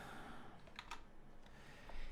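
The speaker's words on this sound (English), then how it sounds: "And then I'm going to type in remove." A few faint, brief key taps on a computer keyboard while typing in a search field, quiet and sparse over a low background hiss, with no speech.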